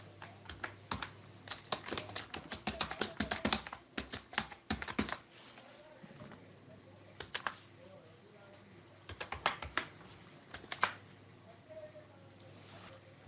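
Typing on a computer keyboard while entering text, with clusters of quick close key clicks in uneven bursts separated by pauses, and occasional faint talk in the background.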